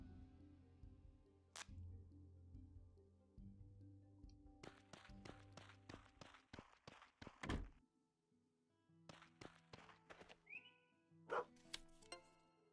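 A dog barks in the video game Potion Permit, a quick run of sharp repeated barks in the middle, set among game thumps, chimes and bright effect sounds, with no talking.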